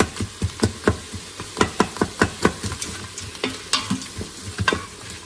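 Chicken, diced tomatoes and Cajun seasoning sauté in a pan, with a steady sizzle under a run of repeated scraping stirs, close and fairly loud, no talking.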